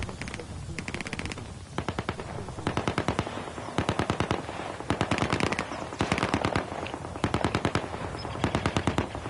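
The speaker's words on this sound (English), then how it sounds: "Who's shooting?" Sustained automatic gunfire at an airsoft MilSim game, loud rapid bursts of machine-gun fire repeating steadily throughout, with faint voices underneath.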